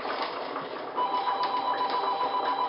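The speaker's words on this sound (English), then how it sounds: "And my phone is ringing." A phone rings with a steady electronic trill over constant background noise, growing slightly louder partway through.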